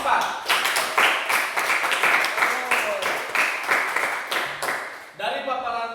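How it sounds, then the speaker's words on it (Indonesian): Classroom students clapping for group 4 after their presentation, a loose burst of close hand claps running several seconds with voices mixed in, fading into a brief spoken remark at the end. "beri tepuk tangan untuk kelompok 4"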